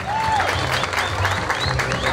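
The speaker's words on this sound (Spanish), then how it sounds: "Fuerte el aplauso para la Marina de San Luis de Chucarima." Dense, steady applause from a festival crowd at the 2019 August fiestas in Chitagá, loud and close throughout, with a few whistles rising above it and a low hum of music or voices underneath.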